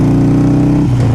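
A 2014 Harley-Davidson Forty-Eight motorcycle engine pulls steadily in second gear with a loud, close, low rumble whose pitch drops near the end as the revs shift.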